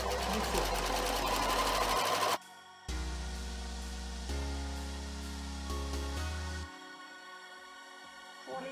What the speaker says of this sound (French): On va commencer le surfilage donc en point zigzag et on va faire la totalité du tissu.